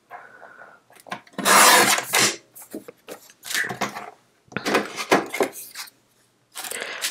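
Cardstock being trimmed to size on a paper trimmer for a handmade card: close, dry scraping and sliding strokes in several bursts, with brief quiet gaps between passes.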